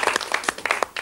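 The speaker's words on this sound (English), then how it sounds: "Give Caroline a nice big round of applause." A studio audience on a 1994 talk show applauds, a brief burst of dense, close clapping.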